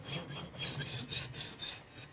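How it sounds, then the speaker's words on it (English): A hand saw rasps back and forth in a repair workshop, its faint strokes repeating in a steady rhythm with no voices. "you can actually hear the tone of the sawing change"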